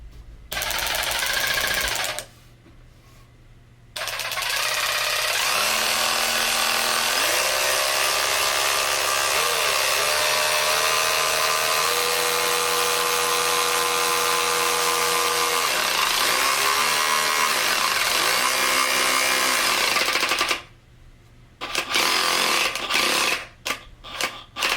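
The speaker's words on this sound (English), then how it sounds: "test actually being able to put that bolt back down in the wood" A Dewalt DCF510B cordless ratchet drives a bolt down into wood, its motor buzzing loudly and continuously for most of the stretch with wavering pitch, bracketed by brief quieter gaps at the start and end.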